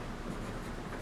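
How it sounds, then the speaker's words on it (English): Pen or marker writing on paper during a one-point perspective drawing lesson: a steady, soft scratchy stroke running continuously and close, with no talk. "I'm going to write them for you."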